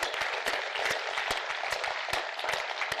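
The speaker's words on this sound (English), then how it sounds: "Let's give those employees a big round of applause." A State of the City crowd gives a big round of applause for city employees: a dense, continuous wash of many hands clapping, loud and full, with a few sharper claps standing out and no speech on top.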